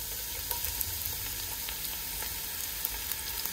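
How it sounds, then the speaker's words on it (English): Onions frying in hot olive oil in a pan, a steady close sizzle with faint scattered pops and no voices. "the first thing I'm gonna add once my oil is nice and heated is my onions."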